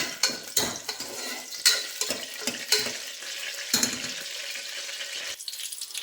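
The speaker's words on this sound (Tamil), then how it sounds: "போட்டதுக்கப்புறமா நல்லா கிண்டிக்கோங்க. மிக்ஸ் ஆகிற வரையும் நல்லா கிண்டணும்." Prawn biryani ingredients stirred in a pressure cooker, with repeated scraping and clattering of a ladle against the metal pot over a low frying sizzle, close and fairly loud.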